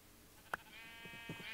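A sheep in the Minecraft video game gives a short, sharp bleat, with a fainter second bleat following, over a steady tonal background.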